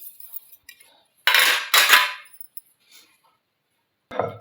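Metal idli plates clang sharply as they are greased and stacked, two loud ringing clatters close together and then a third, with small taps and quiet gaps between.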